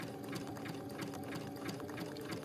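A sewing machine runs steadily, stitching a satin stitch for machine reverse applique on a holiday floral design, a close, even mechanical whir with fast needle rhythm and no talking.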